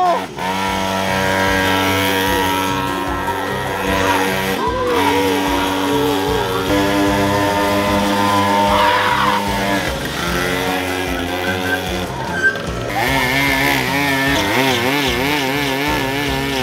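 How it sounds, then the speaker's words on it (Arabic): Several motorcycle engines revving and droning together during a race at a giveaway event, loud and continuous with shifting pitch and no talk over them. "مصطفى ربح الموتور بس الحقيقة فيه موتورين فرح يعمل سباق"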